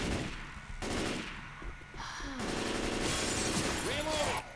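Gunshots aimed at the player in a video game, bursts of close firing mixed with impacts and game effects, with a voice talking underneath.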